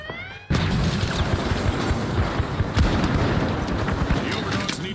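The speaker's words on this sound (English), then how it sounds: "Throwing a flashbang!" Flashbang grenade thrown in the video game The Finals: a sudden loud burst after a short quiet lead-in, followed by sustained dense crackling and booming game noise with scattered sharp impacts.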